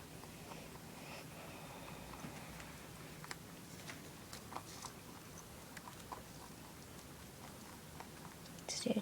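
A pet rabbit chews food up close, making soft, rapid crunching and nibbling sounds that run steadily at a faint level, with a few louder rustles at the end.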